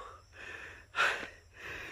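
A worker carrying a heavy load of bananas on a mountain trail breathes heavily, with repeated loud, rhythmic panting breaths close to the microphone, one sharp gasp standing out in the middle.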